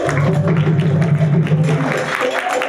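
Applause for the visiting King of Ghana at Essex County College: a dense, steady wash of clapping from a gathered audience, loud and continuous throughout, with voices mixed in.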